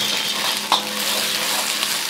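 Green chilies fry in a pan for chicken fried rice, giving a close, steady hiss and crackle with a couple of brief sharp clinks of a utensil and no talking.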